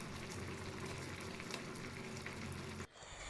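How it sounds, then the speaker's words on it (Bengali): White cooking oil heats in a hot kadai, giving off a steady, close sizzle and bubbling hiss that cuts off abruptly near the end, leaving a quieter pause. "আমি গরম কড়াইয়ের মধ্যে দিয়ে দিচ্ছি কিছু পরিমাণে সাদা তেল।"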